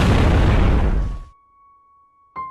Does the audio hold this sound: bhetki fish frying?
no